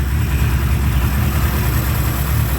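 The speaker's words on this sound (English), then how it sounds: "we went for a baffled torpedo style muffler" Small engine of a 1938 Baby Austin idling through a baffled torpedo-style muffler, a steady low burbling rumble heard close up and loud, no voices.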